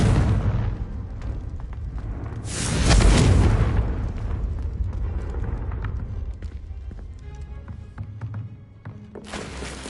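In Hogwarts Legacy, the Confringo blasting spell sets off a deep rumbling explosion that swells and fades over a couple of seconds, amid a game soundtrack and scattered combat impacts.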